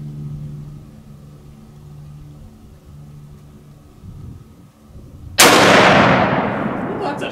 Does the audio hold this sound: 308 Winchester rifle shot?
yes